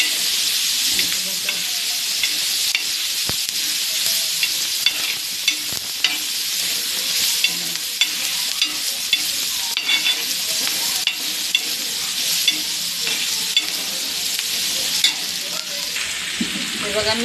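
Kokum, turmeric, salt and tomato frying in a pan, a steady close sizzle with bright hissing crackle, broken by small scraping knocks as the mix is stirred, with no talk over it.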